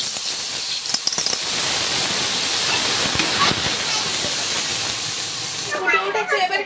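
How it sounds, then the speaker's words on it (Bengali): Water pours into a pot of thick curry as a loud, steady rushing hiss, ending with bubbling and sizzling as the flow stops. "এবার কিন্তু জল ঢেলে দিচ্ছি।"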